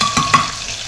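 Peeled, crushed garlic goes into hot oil for a tempering, giving a steady close sizzle with a couple of brief stirring scrapes over a one-second stretch.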